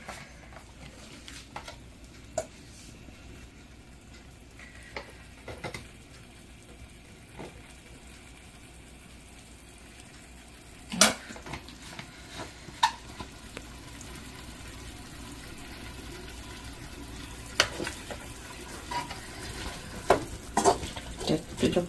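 Beef and onions cook in a little oil in a pan, a soft continuous sizzle broken by repeated spatula scrapes and clicks against the pan, close and moderately quiet throughout.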